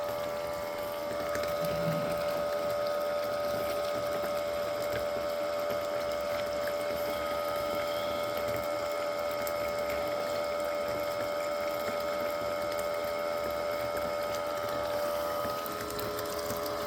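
A pump for gold prospecting drones steadily, running creek dirt with rushing, splashing water throughout, loud and unbroken, with no talking.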